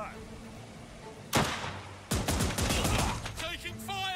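Bursts of gunfire in a video game firefight, with a loud blast followed by a rapid rattling volley and scattered shots, close and sharp, with a voice speaking briefly near the end.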